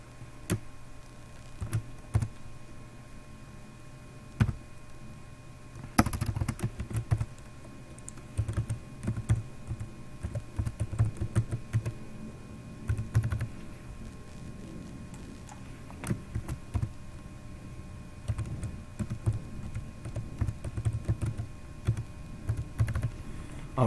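Keys clack on a computer keyboard as a password is entered, in irregular bursts of close, crisp taps with short pauses between runs and no voices.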